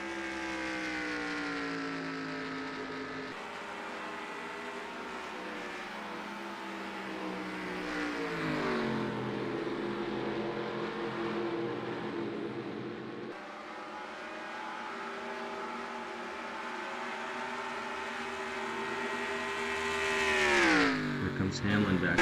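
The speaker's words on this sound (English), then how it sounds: "here's a bunch of cars coming off of pit road now" Race cars leave pit road at Charlotte Motor Speedway and rise through the gears, their engines droning in shifting, overlapping tones before swelling louder near the end.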